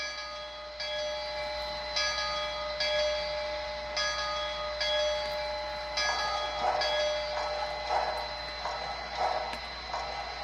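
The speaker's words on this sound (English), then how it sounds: "Here's the bell." Digital sound decoder bell from a Bachmann HO USRA 0-6-0 steam locomotive model, a steady clanging strike repeating about once per second with ringing tones, moderately quiet against a faint hiss.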